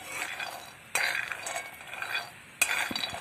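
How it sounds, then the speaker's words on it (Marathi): Peanuts roast in a pan for coconut barfi, with two sharp stirring scrapes of a spatula against the metal over a faint dry rustle, close and fairly quiet, no voices. "आधी शेंगदाणे चांगले भाजून घेणार आहोत"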